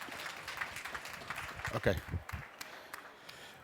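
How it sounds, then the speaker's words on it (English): A seated audience applauds a speaker on anti-aging medicine at an event in Wimberley, Texas; clapping rises briefly and fades as someone speaks over it. "Let's give him a big round of applause."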